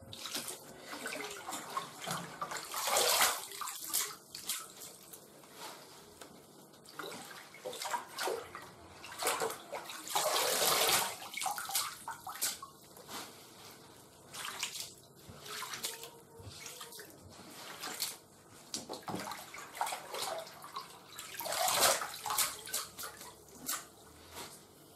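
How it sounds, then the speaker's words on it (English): Water splashes and sloshes loudly while a poroporo plant is rinsed and shaken out, in irregular bursts over a running-water wash that lasts throughout, close and with no talk. "Water going everywhere."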